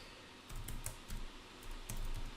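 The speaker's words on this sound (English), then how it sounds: "here you can type block mesh" Computer keyboard typed on briefly to enter a command in a Linux virtual machine, a handful of soft, light keystrokes over a steady background hiss, quiet and without speech.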